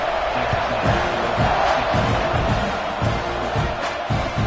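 A football stadium crowd roars in a continuous, dense wash of cheering and yelling before kickoff in a college game between Texas A&M and Miami, with no clear individual voices.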